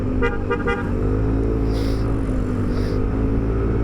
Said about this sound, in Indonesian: Ayo gua klaksonin nih.